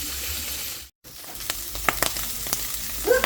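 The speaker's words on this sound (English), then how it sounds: "so I'm just frying those up in the pan" Canned potatoes fry in a pan with a soft, steady sizzle, broken by a brief dropout and by a few clinks and stirring knocks near the end.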